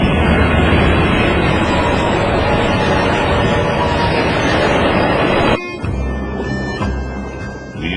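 A homemade train built for a challenge runs along a railway line with a loud, rough engine roar that cuts abruptly to a quieter, steadier running drone near the end.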